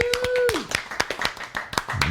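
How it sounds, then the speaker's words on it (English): Scattered, light golf-style clapping from a small group of podcast hosts and guests, a couple of dozen quick taps over about two seconds, with a brief tonal blip and some murmured voice underneath. "golf clap for yourselves"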